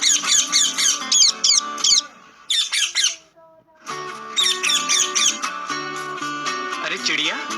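Cartoon bird squawks loudly and repeatedly in rapid bursts, with a short pause midway, then more squawking over music and sound effects.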